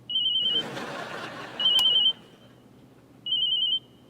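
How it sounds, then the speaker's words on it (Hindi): A telephone rings late at night in three short electronic trilling bursts, evenly spaced and fairly loud against a quiet room, with a faint rustle of movement between the first two rings. "भगवान, इतनी रात को कौन फोन कर रहा है?"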